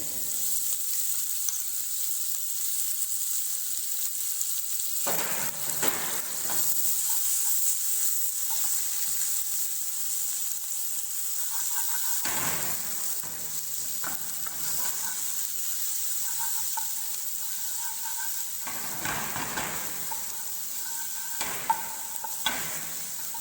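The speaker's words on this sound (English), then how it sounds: "Now we are stirring it properly so that it can absorb the oil and saute properly" Chopped onion sautés in oil for Kashmiri cooking: a steady, close hiss of frying runs throughout, broken by several bursts of louder scraping and stirring in the pan.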